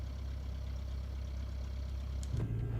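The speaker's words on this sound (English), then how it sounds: "Listen to those beautiful engine sounds." Steady low engine drone from a Boeing 737-800 in the X-Plane 12 flight simulator, an even hum held throughout with a brief click and thump near the end.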